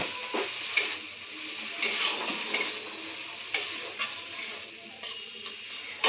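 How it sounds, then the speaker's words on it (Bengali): Spice paste frying in oil sizzles steadily while a utensil stirs and scrapes the pan in irregular strokes, close and moderately loud, with no voices. "তো চলো দেখো মশলাটা আমার ভাজা হয়ে গেছে"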